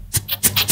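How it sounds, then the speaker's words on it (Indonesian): Short hissing bursts of escaping air, several quick puffs in a row, close and fairly loud with a faint low hum beneath. "itu adalah suara anginnya keluar"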